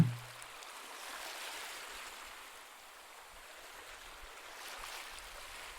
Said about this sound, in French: vous continuez par vous laisser bercer par le son mélodieux des vagues